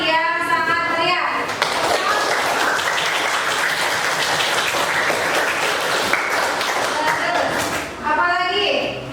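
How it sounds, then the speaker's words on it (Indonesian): Schoolchildren in a classroom break into loud, enthusiastic applause that fills several seconds as a dense, continuous clatter of clapping, with a voice speaking briefly before it starts and again as it ends. "Kalau semangat, silakan menunjukkan dengan tepuk tangan yang sangat meriah."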